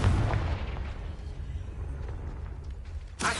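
A Confringo blasting curse exploding in the Hogwarts Legacy video game: a heavy, booming blast up front that rumbles and decays over a few seconds, then a sharp burst at the end.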